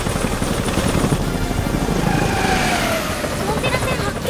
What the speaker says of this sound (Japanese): 川崎重工 BK117D3 消防ヘリドクターヘリで現場に向かってくれ